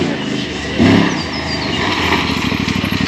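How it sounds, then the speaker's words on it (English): Aprilia Tuareg 660 motorcycle engine running steadily, the revs dipping briefly as the traction control steps in, close and loud with wind noise over it. "you can hear it kind of, the engine dip down a bit"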